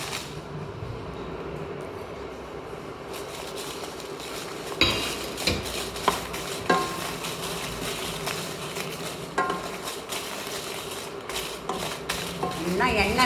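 Rasam powder spices are dry-roasted in a pan without oil, with a steady scrape and rattle of stirring and sharper metallic knocks of the utensil against the pan, and no talking.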